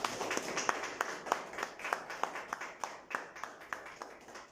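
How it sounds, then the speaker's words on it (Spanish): Church congregation clapping at a Thursday general service, a steady rhythmic beat of claps, moderately close and sustained, with scattered voices mixed in. "Dale un fuerte aplauso al Señor."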